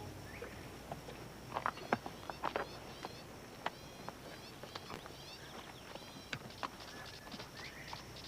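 Scattered hoof clops of horses walking on hard ground, irregular and fairly faint, with soft outdoor background noise and occasional bird chirps.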